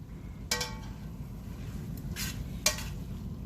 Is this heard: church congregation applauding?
no